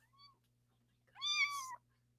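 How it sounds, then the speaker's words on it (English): A kitten meows once in a clear, rising-and-falling cry at close range, preceded by a short, fainter chirp, over a quiet low background hum; no one talks. "Is the meowing throughout the night as well, Nicole?"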